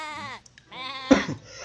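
Goat in the adventure game Anna's Quest, two clear close bleats, the second longer and more wavering.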